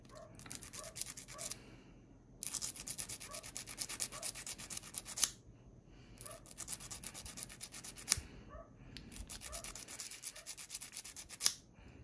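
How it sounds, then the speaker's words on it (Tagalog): Three bursts of brisk back-and-forth scraping as sandpaper is rubbed on an electric kettle's metal contacts, separated by short pauses; fairly close and moderately quiet. "Konting liha lang"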